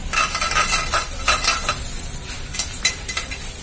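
Asafoetida, ajwain and urad dal sizzle in a hot pan while a spoon scrapes and stirs in irregular bursts, close and fairly loud with steady frying hiss underneath.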